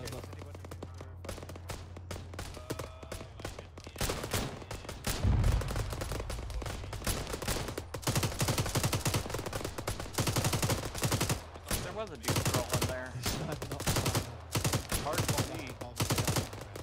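Sustained gunfire in the Arma 3 military game: dense bursts of rifle and machine-gun shots crackle through the whole stretch, loud and continuous, with a heavier boom near the start and voices talking underneath.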